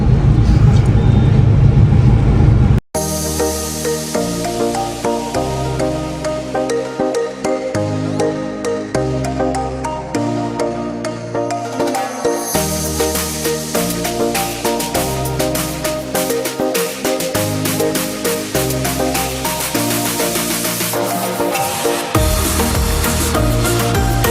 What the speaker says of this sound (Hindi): सामने गाड़ियाँ देखें, ये लाहौर का कैनाल रोड है और ये गाड़ी जा रही है 40 की स्पीड में।